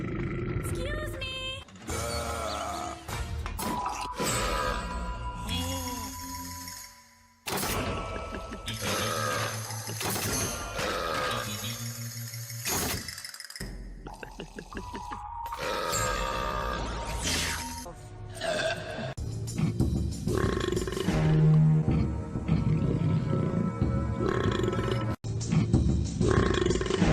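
A string of loud, drawn-out burps, one after another with short gaps between them, some deep and roaring and others higher and tonal, run together closely across the span.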